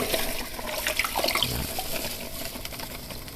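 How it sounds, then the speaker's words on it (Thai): Brown sugar being poured into a container for a fermented pineapple-peel microbial brew, making a continuous close, grainy rushing hiss with scattered light ticks, steady throughout and without talking. "แล้วก็เท น้ำตาลทรายลงไปเลยครับ"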